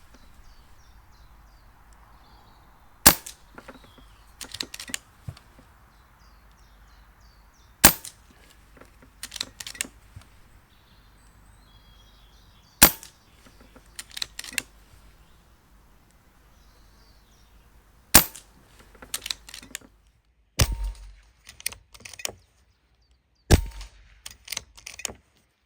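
A Kral Mortal multi-shot pre-charged pneumatic air rifle fires about six sharp, close cracks spaced several seconds apart, with faint mechanical handling sounds and quiet background between shots.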